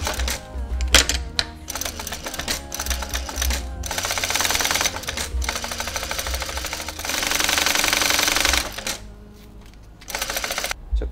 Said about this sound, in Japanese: 端から 4mm の位置に縫っていきます